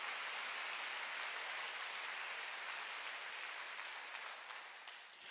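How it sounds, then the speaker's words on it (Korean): A church congregation claps during a sermon, a fairly faint, steady patter of many hands that thins out toward the end. "박수 세게 치세요"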